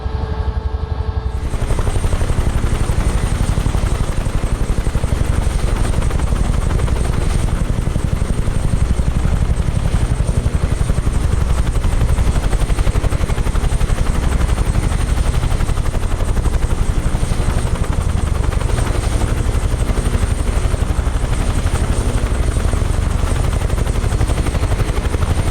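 A UH-1H Huey helicopter in Microsoft Flight Simulator drones with a loud, continuous turbine whine and steady rotor thrum, unbroken and close for the whole stretch after a brief quieter opening, with no voices.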